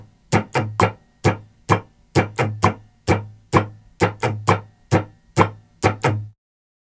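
An acoustic guitar strums a steady eighth-note pattern of mostly downstrokes in a repeating rhythmic group, each strum crisp and close, played alone for several bars before stopping.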